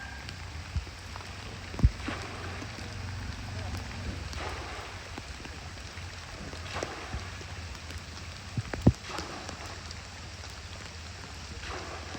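Steady rain falls by the Kemmannu river, a soft, even hiss with a few sharper drops and knocks, faint and continuous with no talk.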